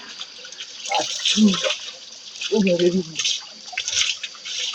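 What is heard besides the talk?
bathing in cold natural shower water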